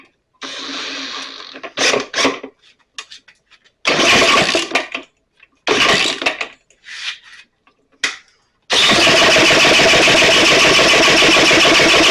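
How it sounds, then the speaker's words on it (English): A 1935 Maytag Model 92 engine is cranked over in short repeated bursts of chugging, each stopping abruptly, then finally catches and runs with a loud, steady, rapid putter close by. "So we need to turn the engine over."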